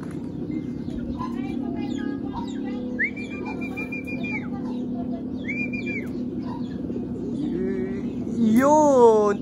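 Racing pigeons return from a training flight and coo softly near the loft, with a few whistled calls. A voice talks and murmurs quietly underneath throughout.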